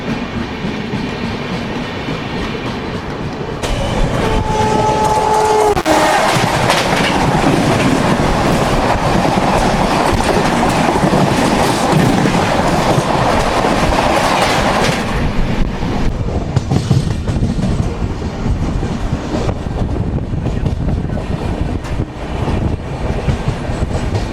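A passenger train, a Bengaluru to Visakhapatnam special heard from a general coach, runs on rails with loud, continuous rumbling and clickety-clack of wheels, a brief tonal whine early on, no voices.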